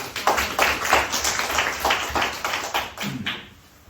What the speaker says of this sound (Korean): 여러분들 힘찬 박수를 짜겠습니다